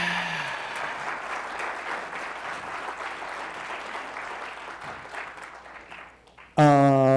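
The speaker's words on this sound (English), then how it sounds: "Can we get another applause for Sarah, AKA Dr. G, for finishing early?" Steady audience applause fills the room after a tech conference talk on distributed tracing, a continuous wash of clapping that slowly fades before a loud voice suddenly takes over at the end.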